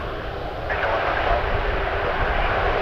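A Boeing 787 Dreamliner at Toronto Pearson gives off a dense, steady jet roar that fills the air at night, slightly swelling midway and holding loud throughout.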